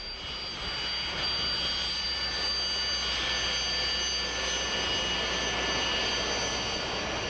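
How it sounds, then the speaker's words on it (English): A Sukhoi Su-25 Frogfoot attack jet roars steadily with a high engine whine, loud and continuous throughout with no speech. "the true workhorse of the Russian Air Force is the Sukhoi 25"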